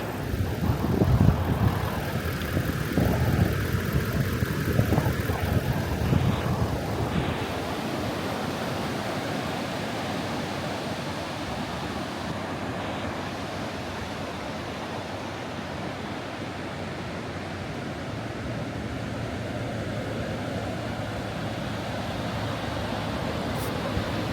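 A car with tyre pressures dropped drives through beach sand dunes at Robe, South Australia, its engine and tyres churning in a steady roar, with a louder rumbling burst at the start and wind noise throughout.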